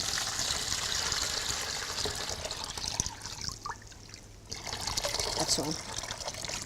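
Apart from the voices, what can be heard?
cold water being poured into a bucket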